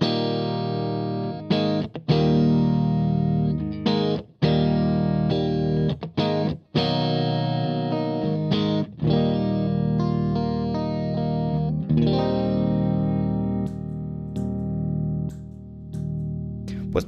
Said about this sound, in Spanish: Vamos a activar el compresor así, tal cual como están sus ajustes.